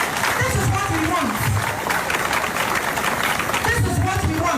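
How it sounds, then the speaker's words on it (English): An audience claps in applause during a radio show broadcast, a sustained ripple of hands that rises and falls while a presenter's voice carries over it. "Another round of applause for him."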